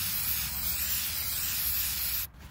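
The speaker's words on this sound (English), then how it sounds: "come back and spray again" CRC throttle body cleaner sprayed from an aerosol can onto the throttle body of a Nissan 2.5 litre QR25DE engine, one continuous close hiss lasting a couple of seconds before cutting off abruptly.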